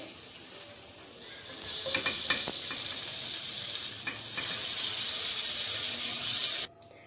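Butter melts in a pan for a white sauce, giving a bright steady sizzle with a few soft clinks of a utensil, growing a little louder before cutting off abruptly.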